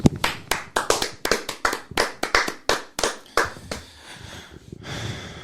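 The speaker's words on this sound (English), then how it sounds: "Can we just clap?" A few people in a podcast studio clap in distinct, sharp bursts. The claps are close, loud and irregular, with quick clusters followed by single slaps. They thin out into scattered faint taps near the end.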